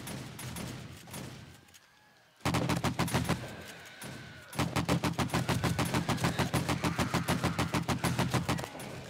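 Rapid automatic AK-47 rifle fire in the zombie survival game 7 Days to Die, loud close bursts after a brief lull, then a long steady stream of evenly spaced shots.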